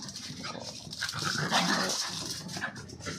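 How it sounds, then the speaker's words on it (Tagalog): Dogs scuffle close by, growling, whimpering and letting out short barks in a rough, continuous tussle. "Nagkaharutan ng aso ko."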